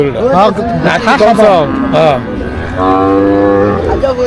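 Cattle at a weekly local livestock market in Araihazar, Bangladesh, giving several loud, close, drawn-out moos one after another.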